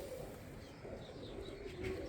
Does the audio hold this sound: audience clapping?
no